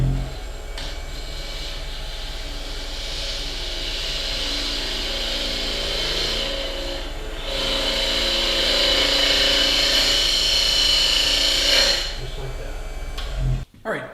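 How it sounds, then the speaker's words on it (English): Bowl gouge hollowing end grain wood on a spinning lathe, a loud, steady motor whir with a harsh scraping hiss that swells midway as the tool cuts deeper, then drops off near the end. "So just bring it straight in, roll it over a little bit, and then come up the side."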